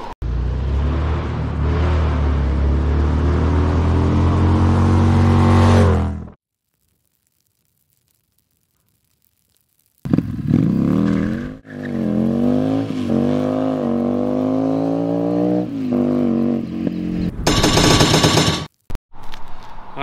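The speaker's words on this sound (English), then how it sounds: "we're by the side of the road and we got a bunch of cars coming" Cars passing along a roadside, each one a loud engine surge that swells and fades close by, with a few seconds of near silence between passes and a quick burst near the end.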